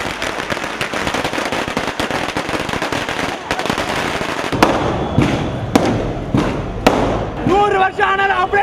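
Firecrackers pop and crackle in dense bursts, with several sharp loud bangs standing out near the end over a noisy festive crowd.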